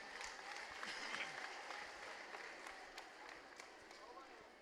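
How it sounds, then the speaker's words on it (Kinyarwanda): An audience applauding at a wedding celebration with worship, dense sustained clapping from a crowd at moderate distance, fading slightly toward the end, with voices mixed in. "Mubakomera amashyi mubashimira."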